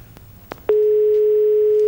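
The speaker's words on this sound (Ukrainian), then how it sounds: "тим часом у нас є телефонний дзвінок до студії" A telephone line tone comes through on a call to a TV studio: a few faint clicks, then a loud, steady continuous tone that holds to the end.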